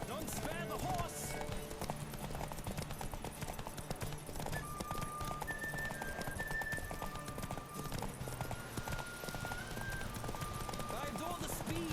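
Rapid hoofbeats of a galloping horse in The Witcher 3: Wild Hunt clatter steadily throughout, with a whinny and a voice talking over the music-backed action.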